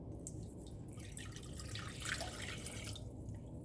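Water being poured into a hot pan while making hot water pastry, a steady liquid splashing and trickling that runs continuously for a few seconds, close and moderately loud, with no talking.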